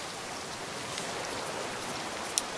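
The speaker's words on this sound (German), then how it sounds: "Regnet es noch? Ja." Steady rain falling in the survival video game Raft, a continuous even hiss with a faint click near the end.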